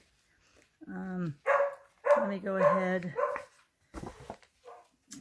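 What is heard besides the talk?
dog barking and whimpering after coming back from a walk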